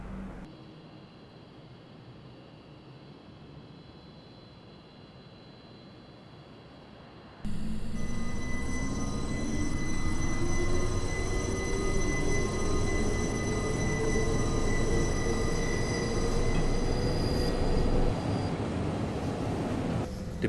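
A Swiss narrow-gauge train on the Arosa line in Train Simulator 2018 runs with a steady rumbling roar and a slowly rising motor whine, quiet at first and then much louder, with no talking.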